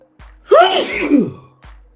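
A single loud sneeze bursts out with a rising then falling cry-like tone, followed by a short breath.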